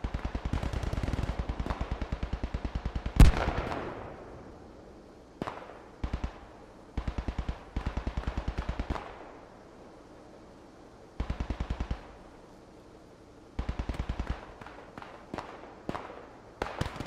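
Bursts of MG 42 machine gun fire ring out in a WW2 shooter video game, loud, rapid strings lasting a second or two each, separated by pauses, with one heavier blast early on and close, dry reports throughout.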